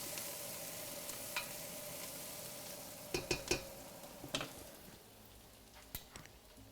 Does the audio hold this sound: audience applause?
no